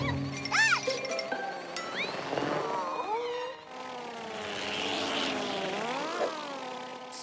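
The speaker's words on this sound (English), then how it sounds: "A drone. I wonder who it belongs to." A cartoon drone whirs and buzzes with rising and falling electronic tones and twinkling effects, a steady airborne hum sweeping in pitch across the scene.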